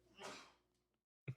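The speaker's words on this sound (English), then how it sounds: "Big sneezing over there." A single sneeze bursts out nearby with a breathy rush that trails off, followed a moment later by a short low snort or sniff, with no talk over it.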